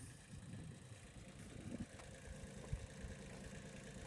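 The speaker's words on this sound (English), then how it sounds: "That's the level Kubota tractor, which I've had to leave running" A Kubota tractor idles steadily in a vegetable field, a low, even engine drone at modest volume with small bumps and rattles and no talking.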